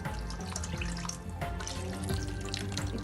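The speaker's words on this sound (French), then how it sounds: "Et je mets de l'eau. Assez d'eau pour couvrir tous les ingrédients" Water pours steadily into a cooking pot while making Moroccan chicken couscous with confit onions, a continuous close splashing stream lasting the whole moment with no talking.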